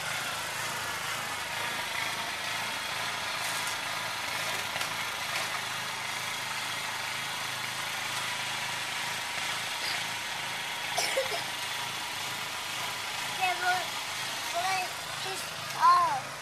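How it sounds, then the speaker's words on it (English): A snowblower engine runs at a steady mid-pitched drone in the background during snow clearing, with people talking intermittently over it. "Oh, he's using the snowblower."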